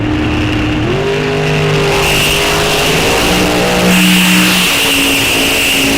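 Drag race car at a Rock Falls Raceway Summit Racing bracket series event, launching hard with tire rattle: a loud, close engine roar that climbs in pitch through the gears, continuous and alone without talk.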